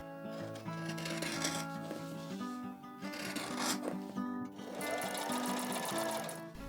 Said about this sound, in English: I machined the wool onto the Petersham